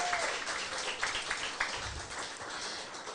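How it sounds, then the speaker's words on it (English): Faint applause from an audience at a political gathering, a light scattered patter of clapping with a few louder claps, quiet and somewhat distant. "Yes, another round of applause."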